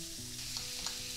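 Peaches and pork chops fry together in a pan, a steady crackling sizzle that holds for just over a second, close but fairly quiet, with no voices.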